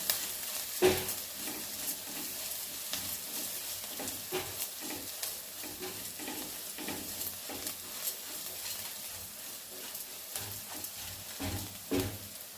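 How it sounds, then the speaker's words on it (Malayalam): Steady frying sizzle of onions sautéing in a pan with occasional scraping and stirring clatter, close by, with no voices. "നന്നായിട്ട് വഴറ്റിയെടുക്കണം ഉള്ളിയെല്ലാം നന്നായിട്ട് വഴണ്ടി വരുമ്പോൾ"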